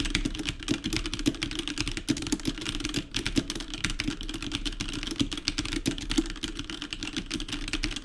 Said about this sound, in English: we'll bang around on the keys again and see what we get